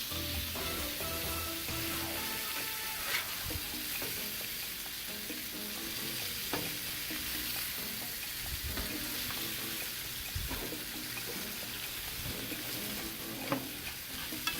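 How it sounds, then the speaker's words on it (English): Pork chops frying in a melting herb butter of thyme and rosemary on a Blackstone griddle, a constant close sizzle with hissing spatter and occasional scrapes, heard alone without voices. "Stir up that herb and butter mixture, and we're ready. Let's turn them."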